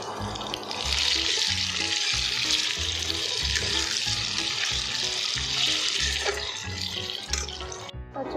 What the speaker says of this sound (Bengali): তারপর এটা ভেজে দিচ্ছি।